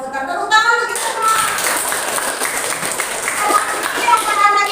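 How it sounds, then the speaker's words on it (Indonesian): A classroom of students applauds together, a steady burst of clapping that fills the room for several seconds, close and fairly loud, with chatter mixed in. "Tepuk tangan untuk kita semua."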